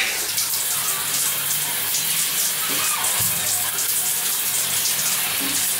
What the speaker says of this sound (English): held shower head so that I can be able to like properly rinse.